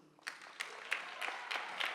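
Scattered, faint handclaps from an awards ceremony audience at the KZN Youth Business Awards 2024, a handful of separate claps spaced unevenly and sounding distant and thin.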